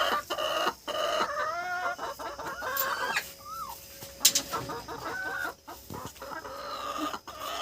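Domestic desi chickens in a home yard cluck and call up close, with irregular bursts of clucks, short squawks and a brief crow-like call separated by quiet gaps.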